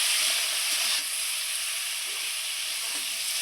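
Potato stalks frying with salt and turmeric in a hot pan, giving a steady, loud broadband sizzle that runs unbroken throughout with no voices.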